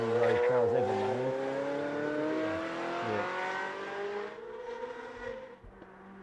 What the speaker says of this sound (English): The fantastic Ferrari F355 Challenge. And it just makes one of the best noises any road car's ever made.